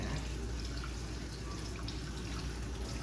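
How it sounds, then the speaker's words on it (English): Blueberries are washed under running water in a kitchen sink, giving a steady, close splashing stream with soft dripping and no talk. "So I am going to wash my blueberries in there."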